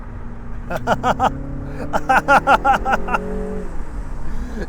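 A 2025 MINI Cooper convertible driven hard through a handling test, its engine giving a droning note with wavering, rising tonal whines that swell and fade over a few seconds.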